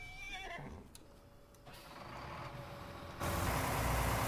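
A horse neighs in the farming video game Farming Simulator 19 with a short, falling whinny near the start, followed by rumbling vehicle noise that grows louder and then jumps to a steady roar.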